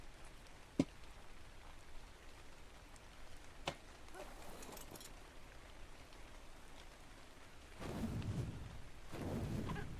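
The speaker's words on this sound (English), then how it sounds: "And it's raining." Rain falls steadily in the video game ARK Scorched Earth, a soft continuous wash at moderate level with a couple of sharp ticks early and swelling bursts of heavier downpour near the end, no talking.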